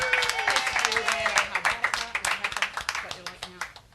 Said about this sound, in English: Everybody give a nice round of applause for Carrie Ann.